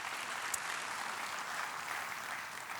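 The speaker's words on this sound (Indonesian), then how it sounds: "Berikan tepuk tangan buat Tuhan kita." Congregation at a JCC Cijantung church service applauding in praise, a steady wash of distant clapping from a large crowd that holds evenly throughout.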